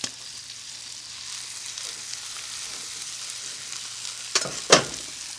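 Pad Thai noodles hitting a hot pan, a steady sizzle that jumps into two brief louder crackling bursts near the end as they are tossed in.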